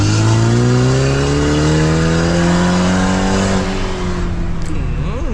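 A Mercedes-Benz W212's adjustable sports exhaust, heard from outside the car, revs up and holds a deep, loud drone, then eases off, close by and with no speech.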